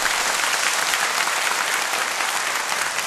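A church congregation at a deaf mission gathering claps in praise to God. The applause is dense, even and sustained, filling the room with no talk over it.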